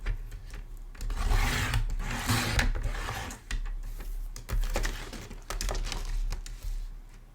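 Paper trimmer blade sliding through cardstock for a vellum Christmas card, a series of rasping, scraping strokes of fairly steady loudness with brief pauses between cuts, close up and with no talking.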